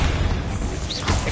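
A booming Confringo blasting-spell explosion in the Hogwarts Legacy video game, a loud, dense burst of low rumble that fills the short moment without letting up.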